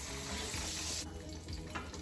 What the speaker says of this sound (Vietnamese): Rồi giờ cho cái này vào chiên.